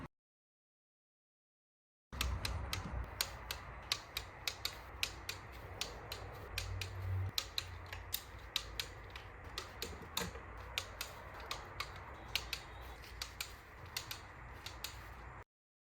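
Valve cover bolts on a 2014 Volvo S60 D4 2.0 diesel are tightened to torque spec, giving a series of sharp, close mechanical clicks and creaks in a quiet room.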